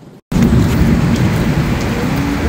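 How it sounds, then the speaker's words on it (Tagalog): Heavy rain pours down steadily after a brief quiet moment, a dense, loud hiss with a deep rumbling undertone. "Oh my goodness, it's raining."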